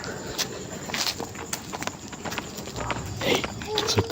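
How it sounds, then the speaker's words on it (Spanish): Horse hooves clip-clopping at night in Santa Cruz, a steady string of sharp knocks mixed with rustling and background noise while a voice talks over them. "Un caballo escucho por aquí."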